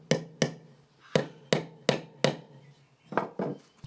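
A hammer taps nails into wooden boards to mark dowel locations during a wooden chair repair: about nine sharp, close knocks in an uneven rhythm.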